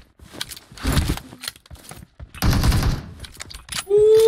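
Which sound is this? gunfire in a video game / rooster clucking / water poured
gunfire in a video game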